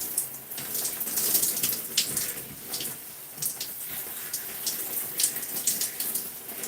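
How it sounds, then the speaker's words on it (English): Running water rinses shampoo out of natural hair during a wash day, a steady, fairly quiet splashing stream broken by irregular spatters and drips, with no talking. "Rinsing out the shampoo."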